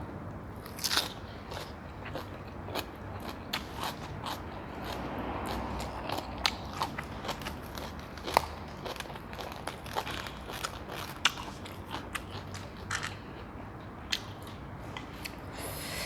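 Crunchy fresh vegetables bitten and chewed alongside spicy Isan papaya salad with fermented fish sauce, giving a steady run of close, crisp bites and crackly chewing over a soft room background, with no talk.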